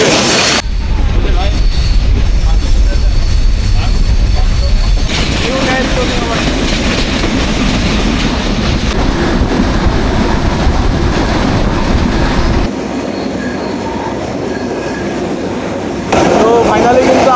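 The Mohananda local train running from Khulna toward Chuadanga in Bangladesh, heard from on board as a loud, steady rumble of wheels and carriages with rattling and clatter, dropping in level for a stretch before rising again.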